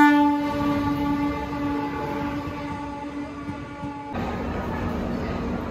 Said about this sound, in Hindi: सरहंद स्टेशन ते गड्डी रुकी है।